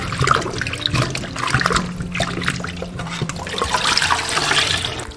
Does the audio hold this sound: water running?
yes